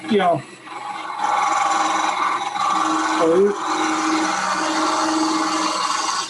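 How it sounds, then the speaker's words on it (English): A woodturning gouge makes a shear scraping cut on spinning wood on a lathe, a continuous raspy scraping hiss that holds steady with slight shifts in pitch. "this gouge will make that same shear cut that you're used to, that shear scrape that you're doing"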